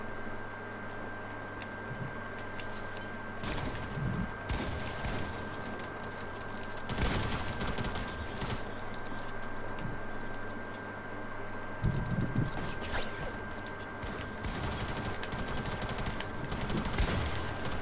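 Video game gunfire crackles in repeated bursts of rapid shots at moderate volume, layered over a steady hum and background game noise, with scattered louder hits.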